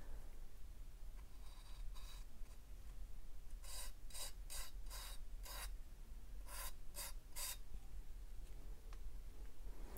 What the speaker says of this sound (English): So I like to clean it up by just scraping. And then removing the excess.